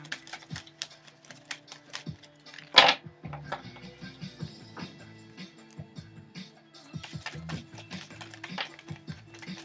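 Tarot cards are shuffled with quick, crisp taps and riffles, repeating in rapid bursts up close, with one louder snap partway through.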